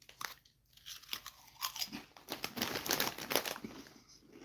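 Lay's potato chips crunch under chewing at close range, in irregular crisp bites that grow busier toward the end, with no talking over them.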